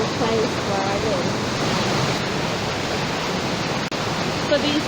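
Continuous broadband rush of a waterfall, flowing water heard close and loud, steady throughout with a brief dip near the end and no voices.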